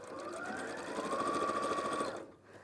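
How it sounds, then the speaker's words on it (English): A sewing machine stitching straight across the seams of a fabric bag, a fast even whirring hum with rhythmic needle clatter running for about two seconds before stopping, fairly quiet and alone. "sew straight across"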